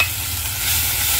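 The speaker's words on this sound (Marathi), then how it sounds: "हे अद्रक, लसूण, मिरची तेलात टाकायची अशी" Ginger, garlic and chili sizzle and crackle in hot oil while being stirred in a pan, a steady close frying hiss with no voices over it.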